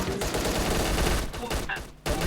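Rapid gunfire in a Counter-Strike match, dense bursts of shots aimed at a ball, loud and continuous with brief gaps near the end.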